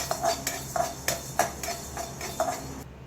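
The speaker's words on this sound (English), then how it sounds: "I'm going to add the coriander seeds and dry roast it." Coriander seeds dry roast in a heated kadai while a utensil stirs them, producing light metallic clinks and scrapes in an uneven rhythm, close and moderately loud.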